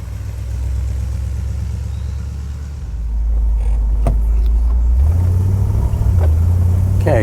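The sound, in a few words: 1949 Oldsmobile 88 car engine driving and shifting gears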